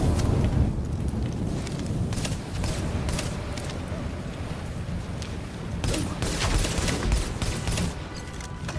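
Dense, continuous gunfire in the video game Tom Clancy's The Division, with shotgun blasts among rapid overlapping shots and bursts that run loud and unbroken throughout.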